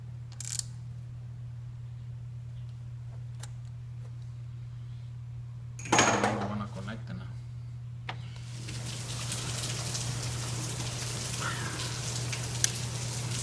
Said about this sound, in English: And it's starting to rain. Look at that.